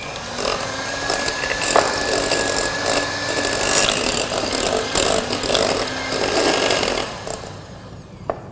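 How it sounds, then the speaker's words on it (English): Butter and castor sugar being whisked in a bowl, a steady whirring churn that runs continuously with little change in level and a few brief knocks near the end. "I'm going to use a whisk to whisk this up till it's nice and light and fluffy."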